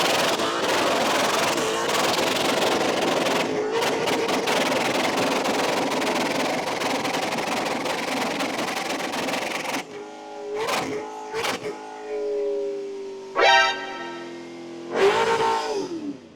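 A Toyota Hilux off-road build revving with throttle hang, a loud sustained engine roar that cuts off, then a few sharp blips whose pitch falls away slowly as the revs linger, with brief voices between.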